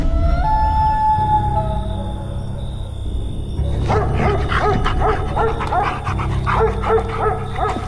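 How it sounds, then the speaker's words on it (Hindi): A dog barks and yips repeatedly at close range in a house bedroom, with whimpering, panting and a sharp, uneven rhythm. It follows a sustained tonal passage of music. "घर में एक कुत्ता था जो मुझे देखकर भौंकने लग गया।"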